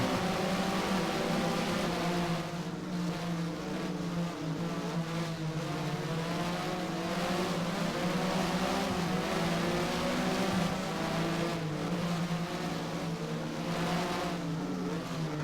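Porsche Mobil 1 SuperCup race car engines in Race07 at Estoril, Portugal, a steady loud roar of a car's engine holding high revs, with faint surges of other cars nearby, with no talk.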